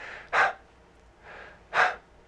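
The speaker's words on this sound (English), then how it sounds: "Usually it's like you're breathing in slowly, but you're breathing out very shallow." Two slow, audible breaths demonstrating stressed breathing, each a long quiet inhale building into a sharp, brief, airy exhale, close to the microphone with no talking.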